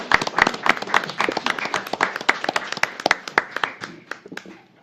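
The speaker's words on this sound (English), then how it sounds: "Let's have a huge round of applause for these fine people." A small audience at a city commission meeting claps for garden club members, a brisk round of individual hand claps that stays fairly close and fades toward the end.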